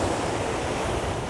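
Sea waves break on the shore with a steady, broad roar of surf, close and continuous, with some wind noise on the microphone.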